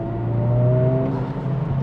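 Turbocharged engine of a 2023 Honda Civic Type R FL5 revving, a steady loud hum with rising tonal whine that holds then eases, close and continuous with no talking.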